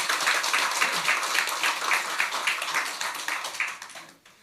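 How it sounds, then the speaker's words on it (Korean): Church congregation applauding in a Korean Sunday worship service after a choir anthem: steady, dense clapping from many hands that fills the hall, then tapers off at the end. "경배 박수하겠습니다"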